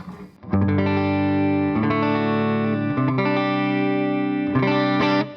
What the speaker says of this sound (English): Right now I'm playing through the WHL Tone Match preset of a Blues Junior.